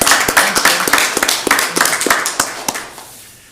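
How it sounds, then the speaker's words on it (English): Scattered clapping from a small group at a county commissioners meeting, irregular and sharp, tapering off and fading to near silence at the end. "Can we applaud?"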